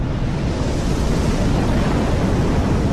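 Strong water waves surge through doors and windows as a loud, continuous roaring wash of broadband noise, steady throughout without break.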